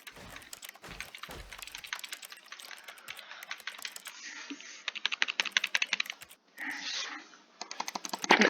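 Rapid clicking at a PC while playing The Stanley Parable, dense runs of sharp close-up taps in bursts with brief pauses and a short stretch of hiss, continuous over several seconds with no talk.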